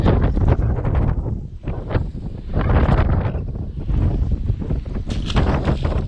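Strong wind buffeting the microphone on a lakeshore bank in early spring, loud gusting rumbles that swell and ease in uneven surges, with no talk.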